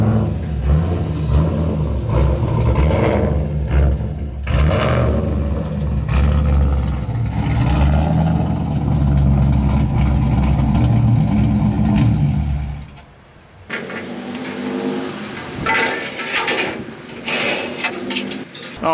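An LS-swapped Miata driven up onto a trailer while loading, its engine rumbling and revving loud and close for most of the time, then dropping off before a rougher, fluctuating idle resumes.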